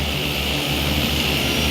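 An agricultural spraying drone's propellers whir in a loud, steady drone with a low throbbing hum as it comes down to land nearby.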